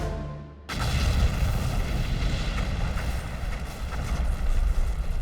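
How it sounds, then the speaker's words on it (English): A crashed US Air Force bomber is blown up at its crash site: a sudden loud blast bursts in after a brief quieter moment, then rolls on as a heavy, sustained roaring rumble. "the team retreats to a safe location and destroys the fallen bomber"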